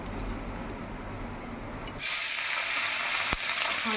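Black cumin seeds hit hot oil left from frying fish, giving a sudden loud sizzle that jumps up halfway through after a quieter frying hiss, with a sharp click near the end.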